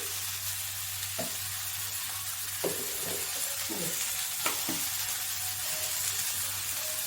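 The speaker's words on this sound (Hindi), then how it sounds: "इधर में थोड़ा सा पत्ता गोभी और आलू भी भून रहे हैं" Cabbage and potato frying with masala in a pan for a home-style sabzi; a steady close sizzle runs throughout, broken by a few scraping stirs of a spoon against the pan.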